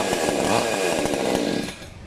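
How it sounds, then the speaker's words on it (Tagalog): A chainsaw engine revs loudly and steadily up close, with a rough buzzing drone that eases off slightly at the end. "Ito po yung inyong chainsaw."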